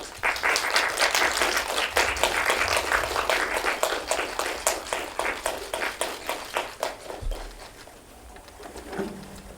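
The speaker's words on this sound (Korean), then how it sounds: "박수 부탁드립니다." Applause from the audience at a press conference for the film Hurdle as its actors are brought out: dense clapping at first, thinning into fewer, separate claps that fade out toward the end.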